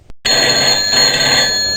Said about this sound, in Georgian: ტელეფონი